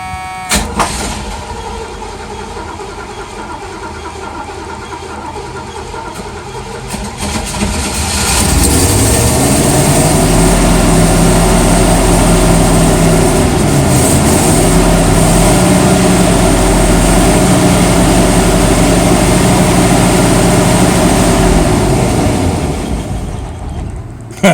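An engine running on gasoline mixed with about 8% diesel cranks and then catches, settling into a loud, steady, rough idle with slowly wavering low tones for most of the stretch, close with no talk.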